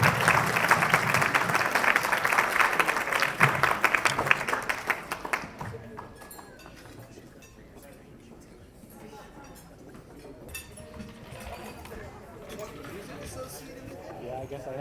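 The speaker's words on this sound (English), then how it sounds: "A round of applause, please." Wedding guests give the groom's parents a round of applause at the reception: loud, dense clapping for about five seconds that stops abruptly, leaving quiet room murmur and faint clinks.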